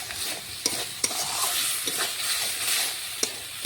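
Kashmiri chili powder fries in a pan for chicken curry, giving a close, bright sizzle with a steady hiss, broken by several quick scraping clacks of a spoon stirring.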